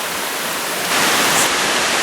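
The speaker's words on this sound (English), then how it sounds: "So this is like the Giroux waterfall." A waterfall flows down in steps in Australia, a close, steady broadband rush of water that grows slightly louder partway through, with no voices.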